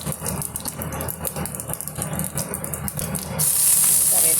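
A Tamil-style beans and carrot poriyal tempering with curry leaves crackles and sizzles steadily in hot oil in a pan, a loud continuous hiss that swells sharply near the end.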